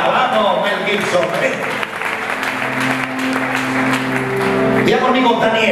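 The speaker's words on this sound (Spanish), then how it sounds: "denle un fuerte aplauso acá" Applause from a church congregation during a sermon fills the clip with steady clapping, mixed with music and talk running underneath throughout.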